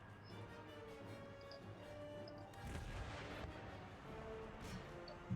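Distant volleys of musket and artillery fire echo across a battlefield in the video game Empire: Total War, a faint, scattered crackle of shots and booms under a low ambient rumble.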